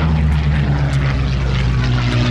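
A Curtiss P-40F Warhawk with a Merlin engine flies at the Duxford Battle of Britain airshow, a loud, steady propeller drone that is close and unbroken with no talk.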